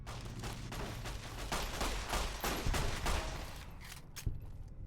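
Pistol fire in Fallout: New Vegas rings out as a dense run of sharp shots over about five seconds, loud and continuous with the game's background noise.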